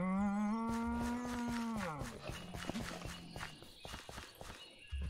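Cattle mooing in the Minecraft video game: a long, loud low moo opens and slides downward, followed by scattered footstep-like clicks and game sounds.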